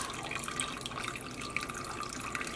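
Water trickles and drips steadily from freshly dyed Bluefaced Leicester sock yarn draining in a dyepot, a faint continuous splashing with scattered small drips and no talk.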